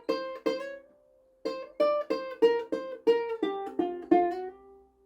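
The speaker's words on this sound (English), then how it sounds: "I've been trying to learn the finger slide, which is when you play a note and slide your finger down to another note." Ukulele plucked one note at a time in a short phrase, about ten clear, close picks with brief ringing and small pitch glides where a finger slides between notes, playing alone.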